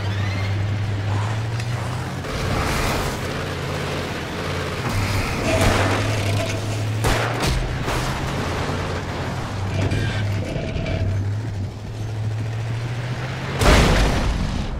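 Explosions and gunfire in the video game Alan Wake, heavy booming blasts and rumbling over a sustained low game soundscape, with a sharp loud impact near the end.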